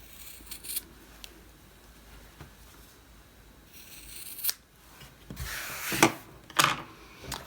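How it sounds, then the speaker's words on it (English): Scissors snip the fabric corners of a quilted planner cover, a few soft close cuts and rustles spread through quiet room tone, with sharper snips near the end. "I'm just going to take this opportunity to just snip off the corners"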